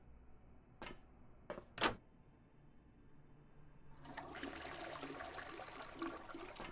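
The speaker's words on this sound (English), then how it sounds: "Sound of running water." Water runs and gushes in a household setting, quiet and somewhat distant, starting after a few brief knocks and thuds and then holding as a steady rushing flow, like a flush or open tap.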